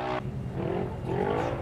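UTV race engine under the lights at a Chicopee snowcross and UTV track, exhaust droning and rising in pitch at moderate distance, a rough whirring roar that shifts as it accelerates.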